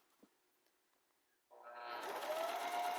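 A sewing machine stitches a quarter-inch seam around a fabric face mask. After a quiet start with faint handling noises, its motor kicks in halfway through with a steady, fairly loud whirring hum.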